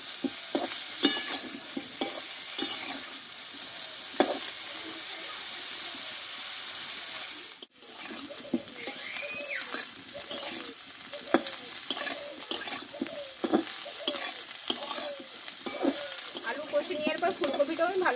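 Cauliflower and potato pieces fry slowly in oil in a kadai, with a steady close sizzle and frequent scraping stirs of a spatula, interrupted by one brief dropout midway.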